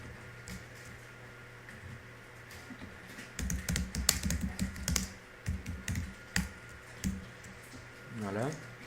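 Quick bursts of typing on a computer keyboard while entering a search, soft clicky keystrokes in clusters, with a quiet voice speaking in the background.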